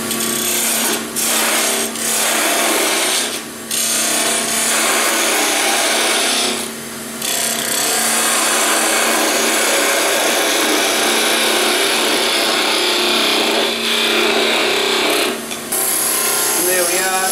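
A wood lathe turns a goblet head, the gouge cutting with a loud, continuous rasping hiss that drops out briefly several times as the tool lifts off the spinning workpiece.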